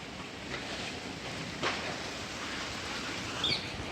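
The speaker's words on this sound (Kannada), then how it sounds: "ಮಳೆ ಹೆವಿ ಬರ್ತಿದೆ." Heavy rain falling near a temple pond in Karnataka, a dense steady hiss throughout with a couple of brief louder splashes, no talk.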